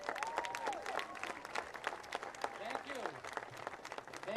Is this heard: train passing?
no